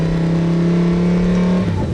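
A supercharged car with a VF Engineering supercharger accelerates hard, its engine note loud, close and steady with a rising whine from the supercharger, then easing off near the end, with no talking.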